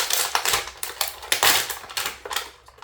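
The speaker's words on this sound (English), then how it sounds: "I might just kind of rip this guy out of there." An action figure being ripped out of its plastic packaging: a rapid series of loud crackling, crinkling and snapping bursts, close up, with no speech.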